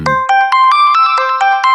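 An L Mobi dual-SIM mobile phone ringtone plays loud and alone: a bright, repeating electronic melody of short, evenly pulsed tonal beeps.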